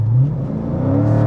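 A Dodge Challenger on an interstate on-ramp, engine not yet warmed up, pulls under light throttle, its deep, steady engine note rising gently in pitch.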